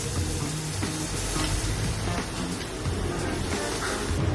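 Mutton searing in a kadhai over high heat, a steady, dense sizzle and crackle of frying meat that stays close and even throughout, with no voices over it.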